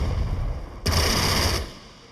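A fighter plane in the Pacific war strategy game Strategic Mind: The Pacific strafes an anti-aircraft gun, a single short burst of rattling gunfire that cuts in sharply and then fades out.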